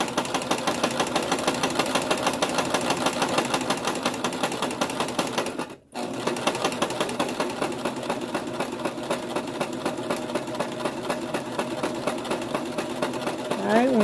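A domestic sewing machine runs in a steady rapid rhythm while stitching a buttonhole, with a short stop midway before the even mechanical chatter resumes.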